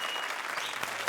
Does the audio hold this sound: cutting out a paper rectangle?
no